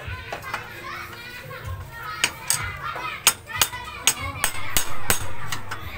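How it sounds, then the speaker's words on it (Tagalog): Hammer blows knocking out the handlebar bearing housing (ball race) on a motorcycle steering head, a series of sharp metallic strikes growing louder and closer together, with faint voices in the background. "sa taas naman tayo magpupukpok mga boss para matanggal natin tong housing na to"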